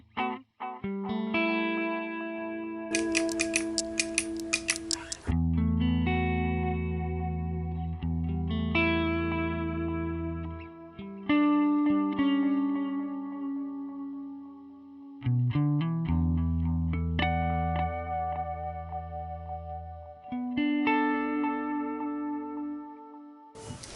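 Electric guitar notes ring out through a delay and reverb pedal, each phrase trailing off into echoing repeats and a wash of reverb, loud and close.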